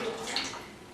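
Freshly made turmeric citrus juice is poured in a brief, soft, splashing trickle of liquid.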